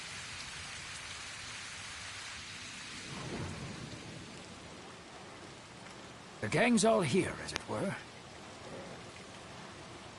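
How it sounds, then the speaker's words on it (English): Steady rain falls in the VR game RuinsMagus behind someone speaking, with a low thunder rumble, then louder bursts of voices and noise in the middle. "What a downpour."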